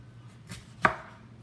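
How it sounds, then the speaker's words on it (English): A knife cuts through a bell pepper on a cutting board, giving two short, soft chopping knocks, the second crisper and louder, in a quiet kitchen. "we need to cut up this pepper"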